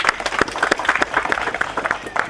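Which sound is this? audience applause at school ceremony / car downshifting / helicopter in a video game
audience applause at school ceremony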